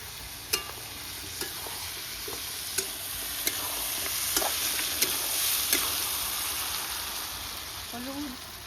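Tomato and ground spices fry and sizzle in a pan beside onions, with steady crackling and scattered sharp scrapes of a spoon stirring at irregular intervals, close and fairly quiet, no talk.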